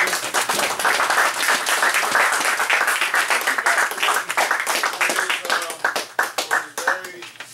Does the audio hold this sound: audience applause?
yes